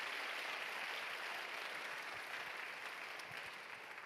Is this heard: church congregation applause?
yes